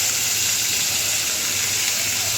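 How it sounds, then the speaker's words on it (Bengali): Pieces of fish fry in mustard oil with a loud, continuous sizzling hiss close by. The crackle stays even throughout, and no one speaks. "মাছের এক পিস ভাজা হয়ে গেছে আর এক পিস উল্টে দিই"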